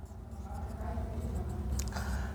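Steady marker-on-board writing during a computer input and output devices lesson, a continuous scratchy rubbing that runs through the whole short stretch at moderate level, with no talk over it.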